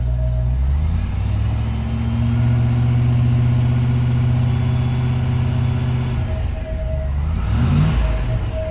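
A 1994 Range Rover engine runs at a steady idle, its low drone close and continuous, then dips and briefly surges near the end as revs rise and settle.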